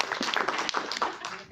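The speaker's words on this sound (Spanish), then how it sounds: "Un aplauso, por favor." Scattered clapping from an audience at a book presentation, a short burst of individual claps that thins out quickly, moderately close and fairly quiet.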